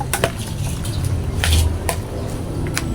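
A spoon working through chopped tomatoes and onion in a bowl, with soft wet squelches and a few light clinks against the bowl's side, quiet and close.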